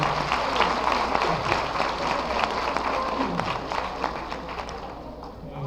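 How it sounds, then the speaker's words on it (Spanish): An audience at a forensic genetics lecture in Mexico breaks into sustained applause to welcome a speaker, a dense wash of clapping that stays loud and slowly tapers off. "Un aplauso, por favor"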